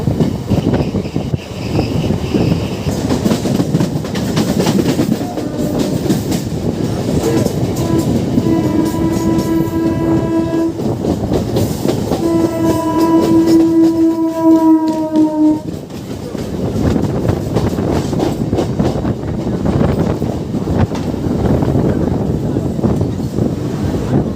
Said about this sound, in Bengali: ট্রেন এসে পৌঁছালো